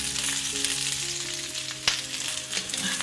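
Steady sizzling of okra (bhindi) pan-roasting uncovered in a pan for an aloo bhindi dish, a continuous crackling hiss with a couple of brief stirring knocks and no talking.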